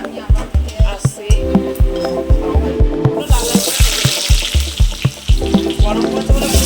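Fish-roe fritters fry in oil in a wok, a constant sizzle broken by regular soft thumps and bubbling pops, with the hiss growing brighter and louder partway through.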